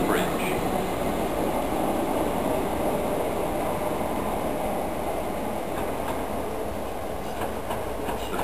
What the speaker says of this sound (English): The train now approaching Platform 3 is the 1543 Southern service to London Bridge.